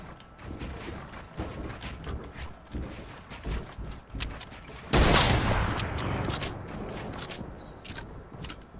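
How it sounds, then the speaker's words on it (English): Sniper rifle being reloaded during a squads match in a shooter video game, a run of mechanical clicks and ratcheting bolt sounds, then a loud burst of gunfire and noisy action in the back. "Reloading the sniper."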